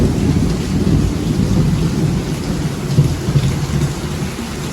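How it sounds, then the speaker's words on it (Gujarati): Heavy rain pours down at night with thunder rumbling low underneath. The downpour is a loud, dense, continuous wash close by, with no voices. "તમે જોઈ શકો છો વરસાદ બહારથી બોલવા માંડ્યો જોરદાર"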